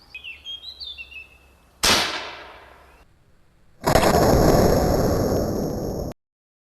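A German arrow air gun fires with one sharp, loud burst that fades off. A brief quiet follows, then a long steady rushing hiss that stops abruptly. Faint birdsong is heard at the start.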